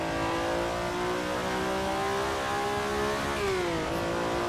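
A 1960s GT racing car engine in the Assetto Corsa GTC 60s mod, such as the Ferrari 250 GTO, revs steadily upward with a tuneful, sustained note, then dips briefly before climbing again.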